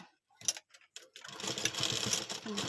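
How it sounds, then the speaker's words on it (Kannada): Sewing machine running steadily as it stitches two pieces of fabric together, a quiet tap or two first, then a continuous close whirring rattle of the needle mechanism with no talk. "ಮಿಷಿನ್ ಇದ್ದರೆ ಮಿಷಿನಲ್ಲಿ ಈ ರೀತಿ ಸ್ಟಿಚ್ ಹಾಕೊಂಬಿಡೋದು"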